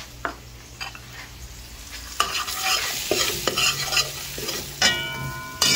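Curry paste hits a hot pot for curry chicken with bodi and aloo, bursting into a loud hiss and crackle with stirring scrapes that swell and continue, no talking.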